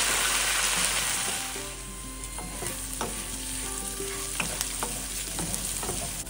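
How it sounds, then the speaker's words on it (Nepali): Washed chickpeas frying with browned onions in a pan, a steady close sizzle with occasional scraping stirs and light clicks, no voices over it. "अब म यहाँ मजाले धोएर राखेको चनालाई पनि हालेर मजाले भुट्न गइरहेकी"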